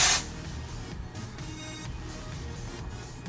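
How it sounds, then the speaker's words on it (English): A sharp burst of Batiste dark brown dry shampoo spray hisses onto hair at the start, followed by a quieter, steady hissy background with faint rustling. "So I take my Batiste in dark brown, and I just kind of spray it on the spots"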